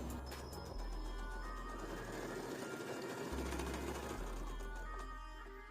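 A sewing machine runs steadily, stitching a baby frock with a continuous close mechanical whir and rapid needle rhythm for several seconds, with no voices.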